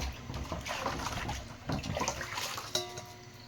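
Water splashes and runs over an old, soot-blackened tea pot as it is rinsed clean, in uneven close gushes with a sharp clank near the end.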